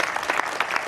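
Audience applause at an annual award ceremony, a short burst of dense, close clapping from a crowd at steady loudness.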